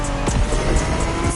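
Honda NSX sports car from the 1990s driven in The Crew Motorfest, a steady loud engine roar with quick pitch sweeps like gear shifts or passes and light tire noise, no talk.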